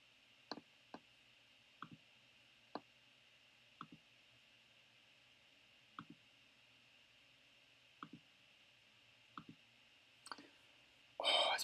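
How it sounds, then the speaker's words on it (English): A computer mouse clicks about a dozen times at a slow, uneven pace during crypto chart work, each click sharp, close and quiet against a steady hiss, followed by a brief louder rustle at the end. "I'm going to click this real quick."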